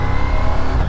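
Ducati Diavel V4 2026 motorcycle rolling through a roundabout in second gear, a loud, steady engine drone heard up close for a brief moment.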